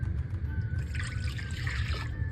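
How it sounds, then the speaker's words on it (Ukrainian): Strong brewed coffee pours into a mixing bowl for chocolate cherry muffin batter, a soft, steady liquid trickle lasting a couple of seconds over a low background rumble. "В мисці з'єднуємо міцно заварену каву."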